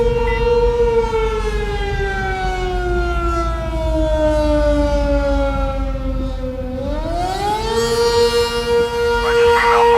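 A tornado civil defense siren wails steadily on the high plains of northeastern Colorado, its tone sliding slowly downward and then rising again as it rotates. It sounds loud and fairly near, and it plays alone without speech.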